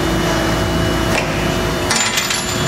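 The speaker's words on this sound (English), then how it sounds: "The machine just sheared off the end to square the material to create a zero point." A CNC angle master machine shears steel angle material in an industrial fabrication shop, a loud steady mechanical drone with a couple of short metallic clanks and sharp bursts, and no talk.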